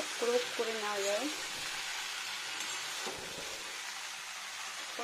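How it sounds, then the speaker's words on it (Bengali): Spices are sautéed with pumpkin and arum in a pan over low heat, a soft continuous sizzle like light rain with occasional stirring scrapes; a brief voice sounds at the start. "একটু ভালো করে কষিয়ে নেবো সুন্দর করে মশলাটা দিয়ে, মানে সব মশলাগুলো দিয়ে"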